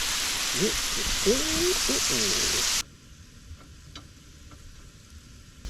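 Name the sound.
backstrap moose steak sizzling on camp stove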